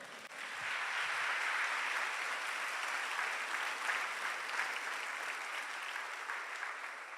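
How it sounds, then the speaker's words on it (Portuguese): A church congregation applauding: a broad, steady wash of many hands clapping at moderate distance, building quickly and sustained evenly for around seven seconds. "diga amém e dê um aplauso ao Senhor"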